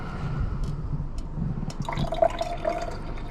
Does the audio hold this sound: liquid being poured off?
yes